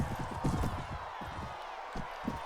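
Horse hooves from the Mount & Blade Warband game beat in a quick irregular clip-clop while the horse is ridden, loud and close, with a brief lull before more strikes.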